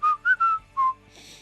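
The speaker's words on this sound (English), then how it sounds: "and so he whistles." A person whistles a few bright notes of "Pop Goes the Weasel", four short tones with brief gaps, clear and close, followed by a faint hissy tail.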